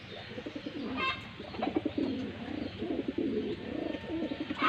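Pigeons coo in repeated soft, throaty rolls, close and fairly steady, layered over one another with faint background noise and no talking.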